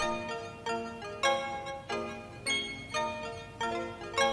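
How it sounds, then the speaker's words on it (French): A mobile phone plays a ringtone of repeated melodic chimes in a steady pulsing rhythm, moderately loud with no talking over it. "Je crois que c'est mon téléphone."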